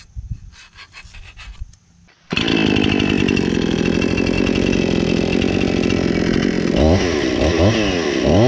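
An Echo 490 chainsaw with cut and polished ports roars at steady full throttle after a quieter idle, loud and close, with some rubbing of wood near the end.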